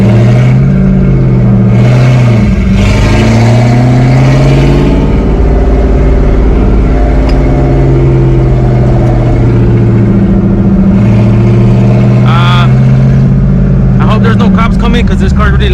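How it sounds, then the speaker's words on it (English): A loud 3-valve Ford Mustang GT engine idles and revs, its deep droning pitch rising and falling steadily throughout, close by with occasional sharper bursts near the end. "Because this car's really loud."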